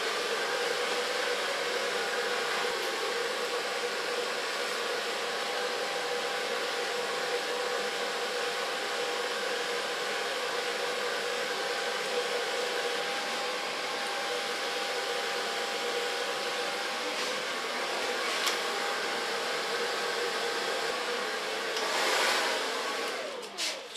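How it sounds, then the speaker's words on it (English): A hair dryer blowing steadily while short platinum hair is styled, a loud continuous whoosh held close for the whole stretch with only slight shifts as it moves. "So far blow drying."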